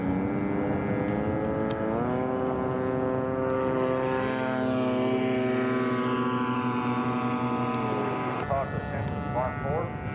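A propeller-driven scale model airplane with a wingspan of about 77.5 inches taxis at an outdoor show, its engine droning steadily and shifting pitch as the throttle changes, while an announcer's voice carries over it.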